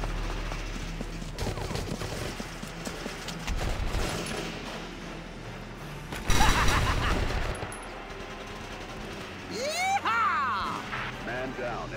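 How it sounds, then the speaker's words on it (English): Enemy gunfire in Valkyria Chronicles, a dense burst of shots with a loud crashing blast near the middle, set against steady game background noise and battle effects. "And that thing is firing on us."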